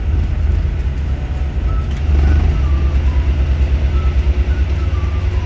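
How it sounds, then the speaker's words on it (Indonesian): A Daihatsu Ceria's air-conditioning compressor kicks in while the engine idles with the blower running. A deeper, louder low rumble joins the steady engine drone partway through and then holds. "Kemudian kita baru menyalakan kompresornya."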